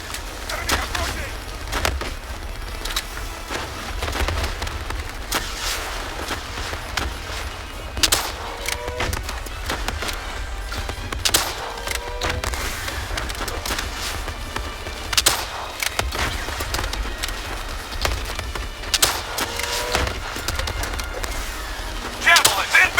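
Gunfire rattles through a Call of Duty Black Ops 3 battle, with repeated sharp shots and bursts scattered over a steady combat din, while voices shout under the action.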